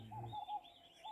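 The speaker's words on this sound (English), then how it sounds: "There's lots of birds now." Birds call in a nature reserve in the Gambia, giving a few faint, thin chirps and tweets in quick succession over quiet background air.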